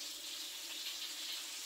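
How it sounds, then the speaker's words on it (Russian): A weak, thin trickle of tap water from a faucet with poor pressure runs in a steady, faint hiss, with no talking and no change in flow. "Тут невозможно даже вот руки отмыть, потому что струя, она такая маленькая"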